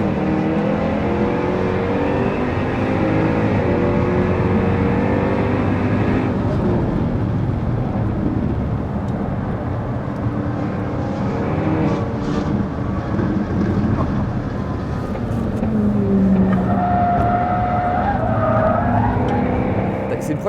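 A 550 hp V8 car on Pirelli P Zero tyres laps the Magny-Cours circuit, its engine roaring steadily with a loud continuous drone and brief tyre squeal, under talk.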